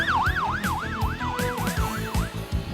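Wailing police siren from a Camaro RS police cruiser, loud and close, its pitch sweeping up and down in a steady repeating cycle over engine and traffic rumble.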